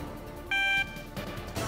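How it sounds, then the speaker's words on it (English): A single electronic beep in the Metal Gear Solid video game, a short bright tone lasting about a third of a second over quiet game background noise. "What is with that beeping sound?"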